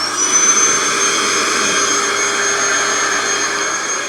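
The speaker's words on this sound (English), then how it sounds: "Vacuum on." A vacuum cleaner running off an ALLPOWERS R600 portable power station gives a steady, loud, close whine and roar that holds unbroken throughout.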